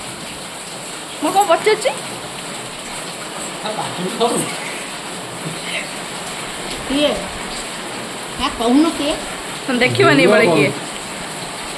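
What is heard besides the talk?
rain falling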